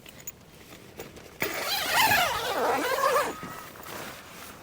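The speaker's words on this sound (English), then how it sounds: "there is the zipper if you want to access the side window" A zipper on a camping shower tent is drawn along fabric in one long, close pull lasting a couple of seconds, rasping and rising in pitch before stopping.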